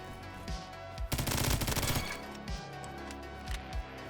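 MP7 fire in the Roblox shooter Bad Business: a dense, rapid burst of automatic shots in the middle, with a few isolated single cracks before and after, loud and close with no talk.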